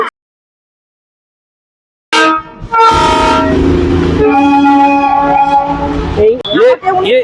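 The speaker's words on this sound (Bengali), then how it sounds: "ঐতিহ্য টয় ট্রেন" A Darjeeling heritage toy train on its hill line, with a loud harmonic horn blast cutting in after two seconds of silence and continuing over rumbling rail noise, followed by a few shorter horn notes.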